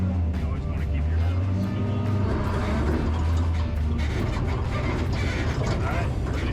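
Off-road race truck pre-running across Johnson Valley desert terrain, a steady loud engine roar with rumbling and rattling throughout, while voices talk over the noise.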